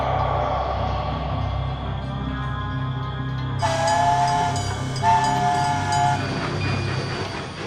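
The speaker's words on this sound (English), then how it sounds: "I simply love to travel by train." A cartoon train rumbles along steadily, low and loud, while a horn sounds in two long blasts partway through.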